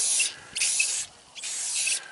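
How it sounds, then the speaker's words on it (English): Cheap spray paint hissing from an aerosol can onto metal wear parts of a John Deere 3710 moldboard plow, three steady close bursts separated by short pauses, with no talking. "You just get the cheapest spray paint that you can find"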